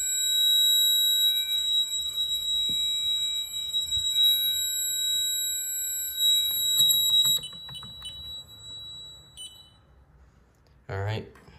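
Ademco Vista 10SE alarm panel sounding, a steady high-pitched electronic tone held for several seconds before cutting off, with a few clicks and a voice briefly heard near the end.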